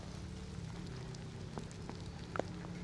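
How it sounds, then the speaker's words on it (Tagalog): Steady rain patters on a surface during a motorcycle ride on a Fazzio 125 along the Marilaque highway, a constant wash of drops with a low hum beneath and a few sharper spatters near the end. "Hindi talaga may iwasan yung ulan."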